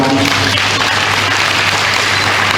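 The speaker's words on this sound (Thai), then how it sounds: "เชิญปรบมือด้วยครับ" A ceremony crowd in Pathum Thani, Thailand breaks into brisk, dense applause that stays loud and uniform across a short burst, with no voices standing out.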